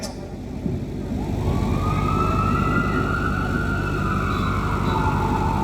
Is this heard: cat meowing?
no